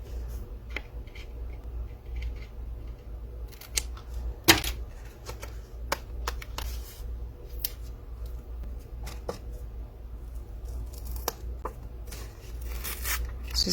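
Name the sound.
shears cutting paper for a scrapbook album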